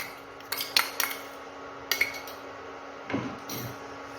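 A metal spoon stirs homemade red chili and black onion-garlic masala for mutton offal in a pressure cooker, giving a few sparse, close clinks and scrapes against the pot with quiet gaps between them.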